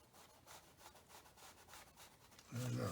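Pencil shading on paper to mark wet sand along a beach shoreline in a sketch: close, rhythmic scratchy strokes that rub back and forth, with a voice starting up at the very end.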